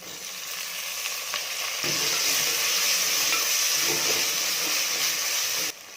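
Onions and tomatoes sautéing in oil with mustard seeds, cumin, fenugreek and curry leaves give a strong, constant sizzling hiss that grows louder partway through, with faint stirring scrapes up close and no voices.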